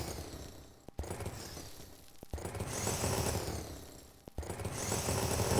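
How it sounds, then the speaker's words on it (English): Mechanical drill boring downward through ground in the video game Rising World, a loud continuous grinding roar in three long bursts separated by brief cutoffs, no talking. "I've got my drill on me."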